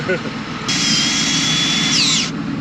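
A handheld power drill whines steadily at high speed, with a strong broadband burst that cuts off abruptly as the trigger is let go, heard in a noisy farm workshop during fall harvest in southern Iowa.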